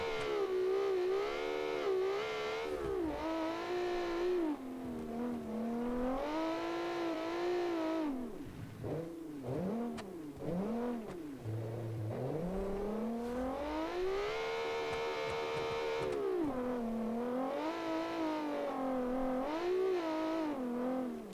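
A rally car engine in a 1972 classic rally competition revs hard and continuously, climbing and dropping in pitch through repeated gear changes and throttle lifts, loud and close with no voices.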